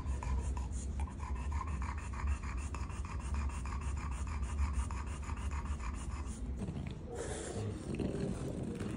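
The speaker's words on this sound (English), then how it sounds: "you can see how he's doing the abdominal breathing right now" A dog with BOAS, a brachycephalic airway condition, breathes hard through an open mouth with heavy abdominal effort, giving a rhythmic raspy panting close up that stops abruptly near the end, followed by a brief rustle.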